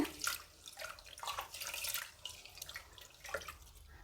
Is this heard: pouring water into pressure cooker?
yes